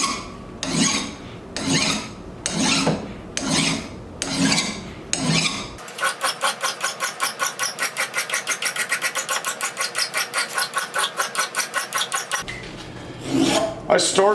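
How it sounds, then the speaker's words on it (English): A large bastard file rasps across a steel blacksmith hammer head in steady back-and-forth strokes: a few slow separate passes, then a long run of rapid, even strokes, then slower strokes again, loud and close with no talk. "I started the filing with a large bastard file that has a little bit more of an aggressive tooth on it"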